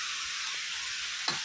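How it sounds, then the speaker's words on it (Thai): Tofu stir-fried in a pan for a Thai ginger tofu dish, giving a steady, soft sizzling hiss with a faint stirring scrape near the end. "ผัดคลุกเข้าให้เข้ากันนะคะแล้วก็ใส่เต้าหู้ลงไปค่ะ"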